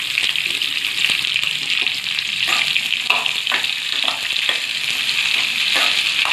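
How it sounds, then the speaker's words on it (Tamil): Onions and curry leaves sizzle steadily in hot oil, a dense bright hiss with regular clinks of a spoon against the pan throughout. "இப்போ நம்ம வந்து வெங்காயத்தை சேர்க்கலாம்."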